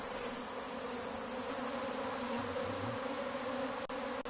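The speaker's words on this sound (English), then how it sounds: "A migratory swarm like this is usually very easily caught and is not aggressive." Migratory honey bee swarm being caught into a hive, giving a continuous, even buzzing drone of many bees, fairly soft and steady throughout with a couple of brief clicks near the end.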